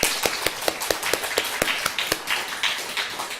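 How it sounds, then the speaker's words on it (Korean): A church congregation claps together during a sermon, sharp hand claps landing at a fairly steady beat for several seconds and then loosening into scattered applause, with no voices over it. "우리 박수 한번 쳐"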